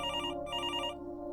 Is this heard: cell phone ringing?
yes